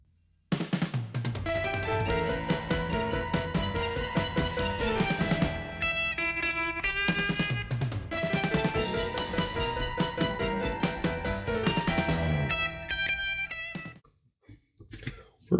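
A blender on its liquefy setting whirs loudly in one long burst blending tofu chocolate pie filling, its pitch dipping and rising as it churns, before cutting off near the end.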